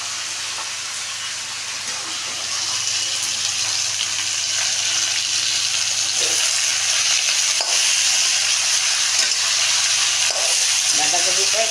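Cabbage frying in a pan while being stirred, a steady loud sizzle throughout with intermittent scraping stir strokes, no talk.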